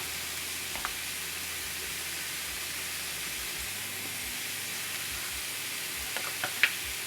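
Steak fries in butter in a pan with a soft, steady sizzling hiss throughout, fairly quiet and close, and a small clink near the end.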